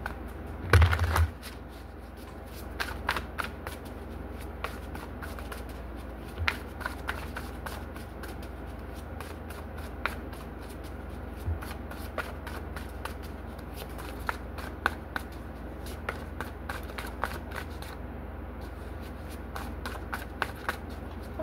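Tarot cards shuffled by hand for a long stretch, a continuous run of soft papery flicks and riffling snaps, close and moderate in level over a faint background hum, with no voice.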